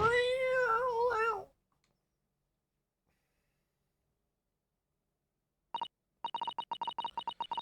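A kitten in the video game The Great Ace Attorney Chronicles gives one clear, drawn-out meow. A long silence follows, then a rapid series of short, beeping dialogue text blips.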